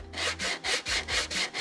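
A small, skinny sanding block rubs back and forth on a car body panel behind a spot-welded section, giving six or seven even, close, raspy strokes in a steady rhythm with no talk.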